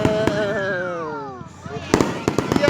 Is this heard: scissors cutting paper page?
no